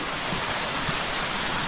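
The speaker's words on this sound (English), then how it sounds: "That's a serious waterfall." A dense, steady roar of rushing water from a waterfall in Australian rainforest, broadband and constant, filling the whole clip with no voices.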